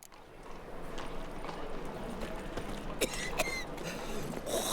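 Horse hooves clip-clop steadily at a moderate pace in The Witcher 3, a continuous rhythmic trot with faint rattling tack and ambient noise, no talk over it.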